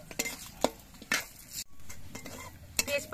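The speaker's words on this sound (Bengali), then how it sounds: "এবার এই মশলাগুলো একটুখানি সময় ভেজে নিতে হবে" Whole garam masala spices (cardamom, cinnamon, cloves, bay leaf) being fried in a pan for a traditional prawn curry, heard as a soft sizzle with sharp clinks and scrapes of a spoon stirring against the pan, close by, without talk.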